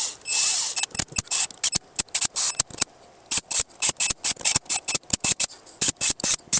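Engine cam cap bolts are run down lightly on a replacement cylinder head, a rapid series of short, sharp ratcheting clicks in quick irregular bursts, close and fairly loud, with no talk.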